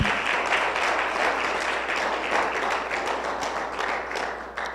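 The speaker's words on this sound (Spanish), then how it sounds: "Denle un aplauso al Señor, hermanos." A church congregation bursts into sustained applause, many hands clapping in a dense, even wash of claps that holds steady for several seconds and eases near the end.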